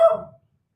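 A pet dog named Oscar lets out a single short bark, close and sharp, that cuts off within half a second and leaves silence after it.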